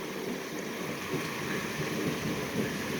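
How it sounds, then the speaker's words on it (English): Steady rain and low rumbling thunder during a soaking thunderstorm, a continuous wash of rainfall with a faint distant rumble beneath it and no voices. "I hear some thunder now."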